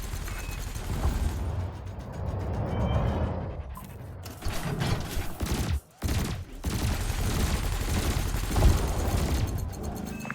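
Sustained weapons fire from a cannon and laser in the space game Elite Dangerous, a dense continuous barrage with repeated booming impacts, briefly cutting out near the middle before resuming at full loudness.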